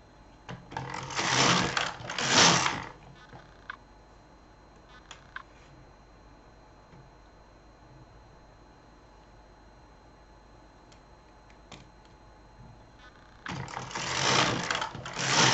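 An Lk 150 knitting machine carriage is run across for two rows, each pass a loud rushing mechanical rattle lasting a couple of seconds, the first near the start and the second near the end, separated by quiet with faint clicks.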